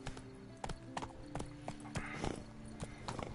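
Horse hooves clip-clop steadily in The Witcher 3: Blood and Wine on PS5, a rhythmic trot of distinct hoof strikes over a low game soundscape, fairly quiet and with no one talking.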